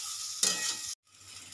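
Potatoes being sautéed and stirred in a pan, with a steady close sizzle that swells in a loud burst of frying, cuts out briefly, then returns as a quieter sizzle.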